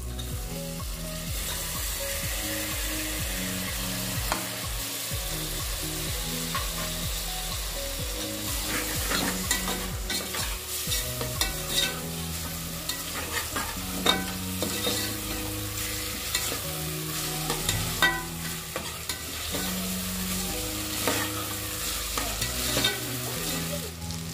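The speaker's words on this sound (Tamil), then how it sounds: "தக்காளி எல்லாமே நல்லா வதங்கிருச்சு" Tomatoes sautéing in a pan for vegetable kurma, a continuous soft sizzle and fry with frequent spoon stirring and scraping, steady and close, no talking.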